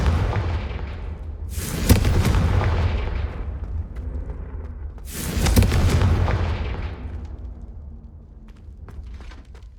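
Two loud Confringo spell explosions boom in Hogwarts Legacy, each a sudden close blast with a long rumbling tail, a few seconds apart, followed by faint rustling and small pops.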